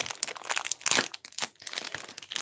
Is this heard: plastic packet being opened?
yes